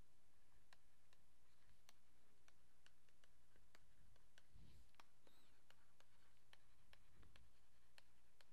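Chalk or marker writing on a lecture board during a biology class, a quiet sequence of soft scratching strokes with faint ticking taps, low and steady against a steady background hum, with no talking.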